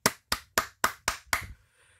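Six sharp hand claps in a steady, quick rhythm, close and crisp, followed by a brief moment of quiet room tone.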